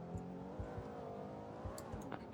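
An old 1940s truck racing along in a driving video game, its engine a low, steady drone with faint rhythmic thumps and some higher whine, heard faintly and alone.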